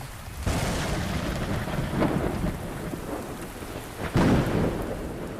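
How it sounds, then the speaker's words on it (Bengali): Heavy rain pours steadily in a cartoon soundtrack, a dense continuous hiss, while loud thunder rumbles and cracks roll in around two seconds and again near the four-second mark. "বৃষ্টির পরিমাণ যেন আস্তে আস্তে বেড়েই চলেছে।"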